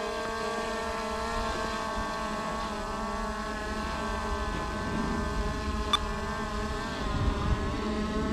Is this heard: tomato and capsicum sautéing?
no